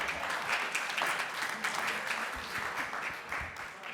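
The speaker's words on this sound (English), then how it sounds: "I'm gonna let the clap go for that one." City council meeting audience in Thousand Oaks, California, gives a steady round of hand clapping, fairly distant and soft in the room, sustained for several seconds with a few louder individual claps near the end.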